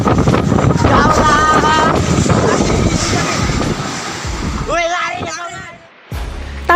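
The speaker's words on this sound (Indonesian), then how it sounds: "amukan angin tampak menyapu rumah warga yang ada di dekat pantai" Strong whirlwind gusts roar near a beach, a dense, loud rush of wind buffeting the microphone while voices shout and exclaim through it.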